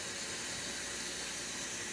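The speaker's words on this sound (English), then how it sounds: "So I'm going to go ahead and get water in a pan for the mashed potatoes" Tap water pours steadily into a cooking pan in a home kitchen, a continuous broadband hiss and splash at close range with no voices.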